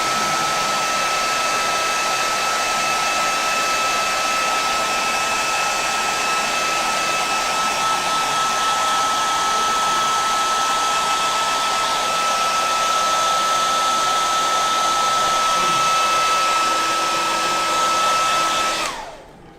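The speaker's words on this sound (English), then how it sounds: "you can speed the process up with the heat gun really quick" A heat gun blows steadily for about nineteen seconds, drying paint on a scale model at a modelling workshop, a loud continuous whirring rush with a faint whine that cuts off abruptly at the end.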